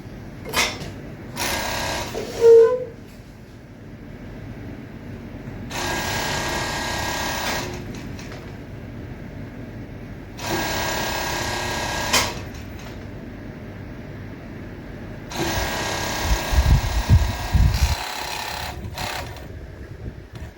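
A sewing machine stitches fabric for two-piece night wear in bulk production, running in several steady whirring bursts of a few seconds each, with handling clicks and fabric shuffling between runs.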